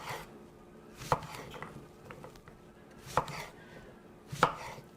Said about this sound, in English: we've got almost all of the zucchini chopped up now